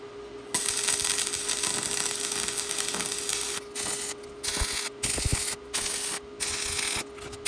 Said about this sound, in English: now we're going to weld up the feet